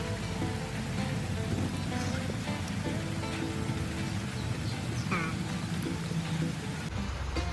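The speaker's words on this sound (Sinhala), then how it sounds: "අවුලක් නෑ මේ වැස්සේ" Steady rain patters outdoors in a broad, continuous wash, with faint background sounds mixed in throughout.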